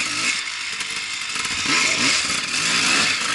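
A small dirt bike engine drones and revs nearby on an enduro trail ride, its pitch rising and falling as the throttle opens and eases off.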